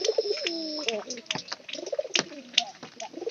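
Racing pigeons coo in soft, throaty, repeated calls close by, mixed with chirps and rustling while people talk over them.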